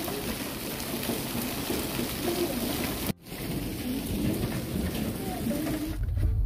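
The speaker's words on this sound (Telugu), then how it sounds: "ఇదిగో వడగళ్ళ వాన" Steady dense pelting of large hailstones on a surface during a hailstorm, loud and continuous, with a brief sharp dropout midway.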